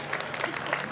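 Applause at a senior queens pageant for the three judges and the tally keeper, a short burst of steady clapping from the crowd, fairly close and even throughout.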